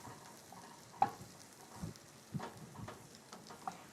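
Scallops browning in a pan for coquilles Saint-Jacques give off a soft, steady sizzle with occasional sharper crackles and pops, fairly quiet and close, with no voices.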